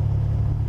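Motorcycle engine idling with throttle applied while the rear brake is held, a steady low rumble close by with no talk over it.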